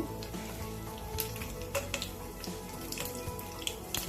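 Cumin seeds and two dried red chillies fry in hot oil for a tempering, making a steady, close sizzle with scattered small pops and crackles throughout.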